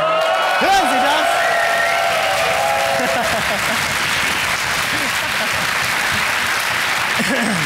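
Loud, sustained applause and cheering from a live studio audience on a German TV comedy show, a dense wash of clapping filling the room throughout, with voices mixed in.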